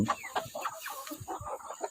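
Chickens cluck in short, irregular bursts, several birds close by, with scattered squawks and faint background noise.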